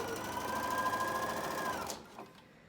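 A sewing machine chain-sews pieces one after another in a steady, close whirring run that stops abruptly near the end, followed by faint handling clicks.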